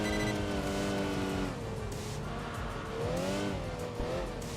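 A naturally aspirated Audi V6 in the Enthusia Professional Racing game drones steadily under acceleration, its pitch climbing, dipping and climbing again through gear changes, a thin buzzing note with no voices.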